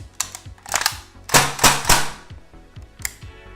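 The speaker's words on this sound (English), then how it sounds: "so let's shoot it a couple times" Northeast Airsoft UZI MP2A1 airsoft gun fired in semi-auto, several sharp close snapping shots with mechanical clacks, spaced irregularly with a quick cluster in the middle.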